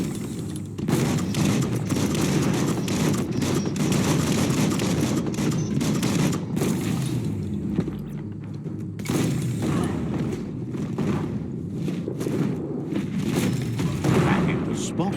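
Dense, continuous explosive blasts and rapid gunfire from a bomb lobber in the action game Biomutant roll on almost without pause, with a short lull midway before the barrage resumes.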